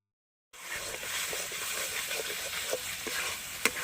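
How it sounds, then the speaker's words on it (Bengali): Potatoes stir-fried with spice paste for a fish and potato curry. After a brief silence, a close steady sizzle and hiss begins, with intermittent scraping clicks of stirring. "মশলাটা ভালো করে আলুটা দিয়ে ভালো করে কষিয়ে নেব"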